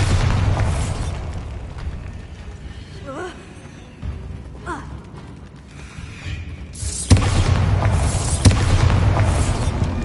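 Bombarda blasting spell in the Hogwarts video game: a heavy explosive boom over dense rumbling game ambience, with a sharp burst near the end, and a voice speaking.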